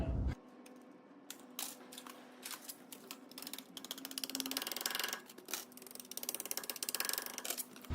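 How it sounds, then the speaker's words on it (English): Tin snips crunch through thin sheet metal, trimming a small 45-degree cut off a sharp corner of a floor insulation panel for a Land Cruiser. Quiet, irregular clicking snips sound up close with no voices. "On any corner here where you've got a sharp edge,"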